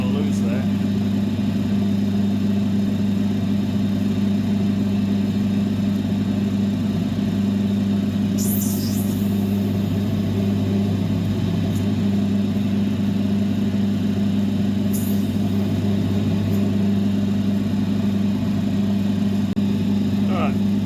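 A motorized saw slices an Andamooka opal stone with a constant loud droning hum and steady harmonic whine, broken twice by brief high scraping bursts.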